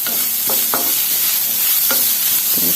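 Grated coconut being dry-heated and stirred in a pan for chammanthi, with steady scraping strokes of a spoon against the pan over a soft, continuous sizzle, close and alone with no voices.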